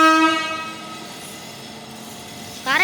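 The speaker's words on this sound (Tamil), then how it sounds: "காரைக்கால் டு பேரளம் ட்ரெயின் தான் விட்டுருந்தாங்க." Train on the new Karaikal to Peralam track sounds a loud horn that fades into a low rolling rumble, with a brief sharp tonal burst near the end.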